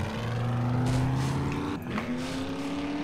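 A truck driving in the survival game 7 Days to Die, its engine droning steadily and then shifting pitch as it changes gear, heard up close with no speech.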